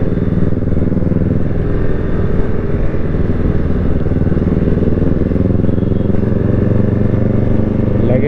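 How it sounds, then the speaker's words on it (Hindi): A motorcycle engine roars continuously at high rpm on a night outing in Shimla, a loud, dense, unbroken rumble that holds steady from start to finish. "भाई दूसरा ही मजा आता है जब हाई आरपीएम पे जाती ना सुमित भाई की बाइक"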